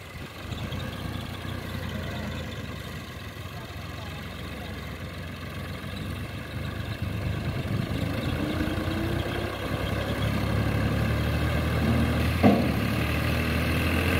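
A tractor, an MF 385 or New Holland Al-Ghazi 65 hp, working hard to pull a stuck load after rain, its engine a steady loud drone that swells toward the end, with someone talking over it.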